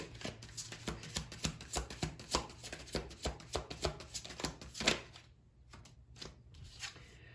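Tarot cards being shuffled and drawn, a close, quiet series of quick papery riffles and flicks over about five seconds, then a near-silent pause with a few soft card sounds.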